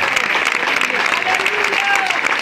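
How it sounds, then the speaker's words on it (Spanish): A church congregation at a sermon claps steadily and loudly throughout, a dense continuous round of applause with faint voices mixed in. "Alguien aplauda si puede."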